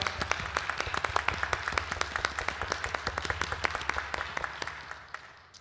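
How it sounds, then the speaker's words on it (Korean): A church congregation at a year-end New Year's Eve service at Songnae Sarang Church claps for its Sunday school teachers, a steady patter of many hands that thins and fades toward the end. "박수로 한번 격려하고 축복하십시다"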